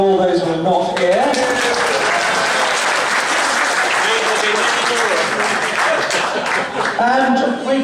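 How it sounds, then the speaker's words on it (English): Applause at a members' lunch gathering, a sustained burst of crowd clapping that swells after a voice and carries on strongly, with talking heard over it at the start and end. "A round of applause to all those who are not here"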